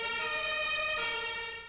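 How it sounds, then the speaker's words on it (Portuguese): A German ambulance siren wails with a steady two-tone pattern, loud and close, heard alone without speech. "A sirene de ambulância aqui na Alemanha,"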